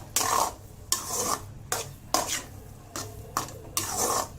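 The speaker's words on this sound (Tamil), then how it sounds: "இப்போ இப்படி நம்ம கிண்டி விட்டுக்கிட்டே இருக்கணும்" A spoon stirs rava kesari, a semolina sweet, in a pan with a rough scraping sound, repeated in about six steady back-and-forth strokes up close, with no talking.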